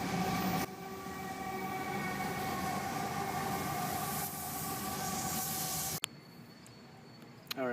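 A long train rumbling steadily past at a station, loud continuous rolling noise with tonal whines and squeal overtones, then cutting off abruptly near the end.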